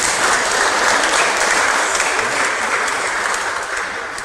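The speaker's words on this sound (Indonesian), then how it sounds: "Bolehkah kita untuk tepuk tangan untuk kita sendiri?" A congregation applauding itself at a wedding blessing ceremony, broad continuous clapping from many hands, loud and steady before tapering off slightly at the close.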